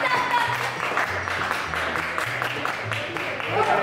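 Onlookers at a spicy breakfast burrito eating challenge cheer and clap in a dense, continuous crowd roar, with overlapping voices shouting encouragement throughout.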